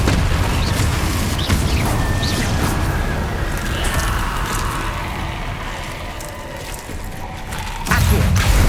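Booming magical blasts from Confringo and Incendio spells in the video game Hogwarts Legacy, a loud dense wash of crackling impacts and rumble with a heavier burst at the end.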